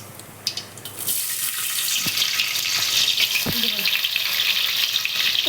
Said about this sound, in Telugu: ఫస్ట్ కరివేపాకు వేసుకోవాలండి